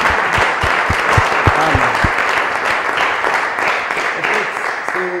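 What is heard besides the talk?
audience applause in church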